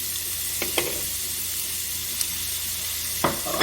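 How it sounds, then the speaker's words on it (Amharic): Chopped onion fries in plain cooking oil in a pan, a steady loud sizzle broken by a few brief sharp crackles and stirring scrapes. "ከዛ እዚህ ጋር የቅድም የከተፍነው ሽንኩርት"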